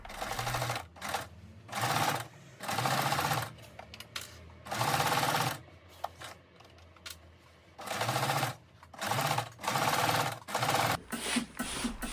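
A sewing machine stitches the side seam of wide-waistband pants in repeated bursts of rapid whirring, a dozen or so runs separated by short pauses, heard up close with no talking.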